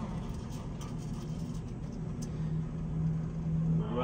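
Boeing 737 engines spool up as the throttles are advanced, a steady low rumble with a rising tone that grows slightly louder toward the end.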